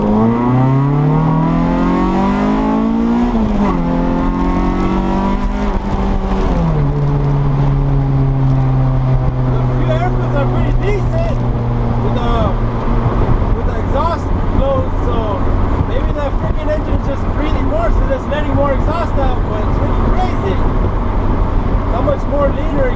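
A 1991 Honda CRX engine revs hard and loud through an open exhaust cutout, pitch climbing through gears before settling into a roaring drone, close up.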